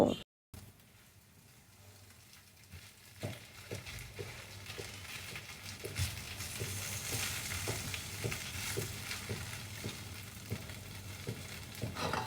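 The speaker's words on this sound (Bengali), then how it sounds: "পেঁয়াজ কুচি দিয়ে ভালো করে নেড়ে চেড়ে পেঁয়াজ এবং রসুনগুলোকে বাদামি করে ভেজে নেব" Chopped onion and garlic fry in a pan, a faint steady sizzle with soft scraping stir strokes at a regular pace, growing slightly louder partway through, no voices.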